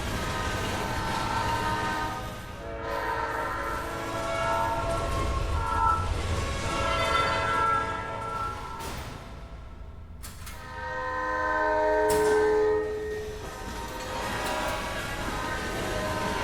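Train in the video game Tunnel Train rumbling loudly with repeated long horn blasts, the horn cutting out briefly and sounding again over continuous rail noise.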